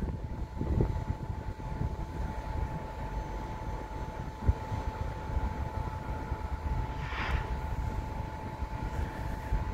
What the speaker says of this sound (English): leading empty coal train